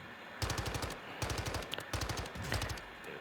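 Rapid bursts of SMG fire from the Gut Wrencher blueprint in Modern Warfare 2, several sustained automatic volleys with brief pauses between, loud and close with no talking.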